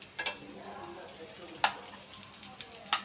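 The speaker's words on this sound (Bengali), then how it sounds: "আর যেগুলো আমি খাবো এখন সেগুলো আমি খুব কড়া করে বা গাঢ় করে বাদামি করে ভেজে নেব।" Chicken tikka kababs fry in a pan with a steady close sizzle, broken by a few sharp clinks and scrapes as they are stirred and turned.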